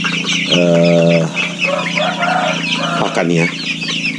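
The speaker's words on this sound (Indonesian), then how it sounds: "Yang di depan teman-teman ini adalah ayam KUB 2 yang sudah usia menjelang 1 bulan" KUB 2 chickens about one month old cluck and call loudly and close by, with a short spoken word partway through.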